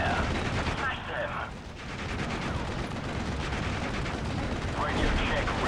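Dense battlefield gunfire from Steel Division: Normandy 44, continuous rattling shots and distant heavy fire layered over a steady roar, with bursts swelling and fading throughout.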